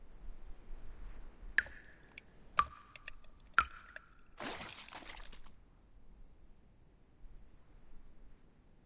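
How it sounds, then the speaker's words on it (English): Water dripping in a motel setting in the video game Reverse 1999: three clear, separate plinking drops about a second apart in a quiet space, followed by a short, harsher splash-like burst. "Sounds like dripping water."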